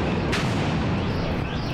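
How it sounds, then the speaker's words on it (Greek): A stun grenade bursts during a tense protest march in Athens, a single loud sharp crack near the start that spills into a dense, roaring wash of crowd and street noise filling the whole moment. "Διαδηλωτές πέταξαν πέτρες εναντίον των αστυνομικών και εκείνοι απάντησαν με χειροβομβίδα κρότου λάμψης."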